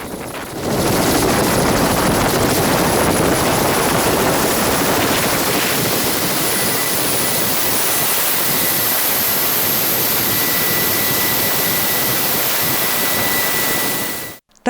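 A rescue helicopter during a federal evacuation exercise roars loudly and steadily for about fourteen seconds, a dense whooshing rotor and engine wash with no pauses, cutting off abruptly at the end.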